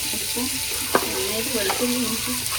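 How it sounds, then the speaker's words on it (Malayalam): Chicken frying in a pan with tomato, salt, garlic-ginger paste and green chili, giving a close, continuous sizzle with a couple of sharp stirring clinks and a faint voice underneath. "അത്ര ഇട്ടിട്ട് വഴറ്റി ചിക്കൻ ഇവിടെ പൊരിച്ചുകൊണ്ടിരിക്കുന്നു"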